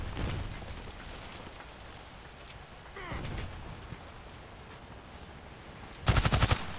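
A G36C rifle fires in the online shooter Contract Wars: a short rapid burst of loud automatic shots near the end, after faint distant pops over a noisy game background.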